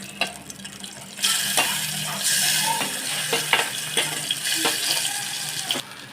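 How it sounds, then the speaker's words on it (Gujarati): Chopped tomatoes sizzle and fry in hot oil seasoned with asafoetida in a Gujarati home kitchen, a steady close crackle with intermittent stirring scrapes and clicks of a spoon throughout. "ચમચો તેલ મૂકી અને હિંગ નાખી અને આપણે ટમેટાં પણ જુદા જ છાંતળી લેશું"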